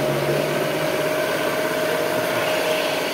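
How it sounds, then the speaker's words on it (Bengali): A three-phase electric motor runs on a DOL starter as part of a car air conditioner training rig, giving a steady, continuous hum with a sustained tonal whine throughout, close and even, with no voices. "এই ডল স্টার্টার দিয়ে এই থ্রি ফেজ মোটরটা চালানো হচ্ছে।"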